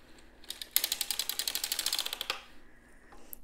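Hand-cranked sock knitting machine with yarn on its needles, turned for a couple of seconds into a rapid, even run of close mechanical clicks and clacks that then fade into quiet.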